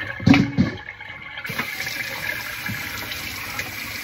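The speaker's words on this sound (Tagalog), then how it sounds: "So, hugasan po natin ng mabuti." Running tap water rinses a milkfish in a sink, with a brief splash and handling clunk at first, then a steady close gush of flowing water continuing alone.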